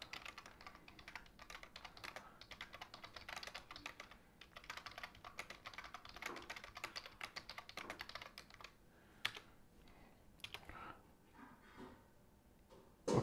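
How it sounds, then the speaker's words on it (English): Steady typing on a computer keyboard while entering text into a Google Docs word-processing document, a continuous run of close, fairly quiet keystrokes with brief pauses near the end. "now I can reopen it, and I can start typing more information into it"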